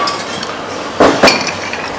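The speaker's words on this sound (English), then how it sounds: "Now we start stirring our drink, add the ice." Ice clinks against a mixing glass as a Manhattan cocktail is stirred, two sharper knocks standing out over a steady low room hiss, no talk.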